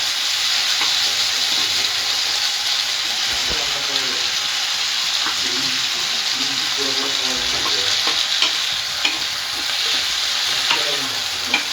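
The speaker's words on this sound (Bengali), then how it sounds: "এটাকে কিন্তু পুরো লাল করে ভাজবো না, এটার জাস্ট কাঁচা গন্ধটা একটু ফ্রাই হলেই দিয়ে দেবো।" Paneer lababdar masala fries on high gas in a loud, steady hiss of hot oil, with a spatula scraping and knocking against the pan again and again; no voices are heard.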